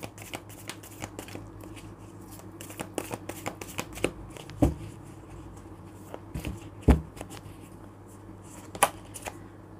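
Tarot cards being shuffled by hand at close range, a quick series of crisp riffling flicks and soft slaps with a few louder snaps, over a quiet background.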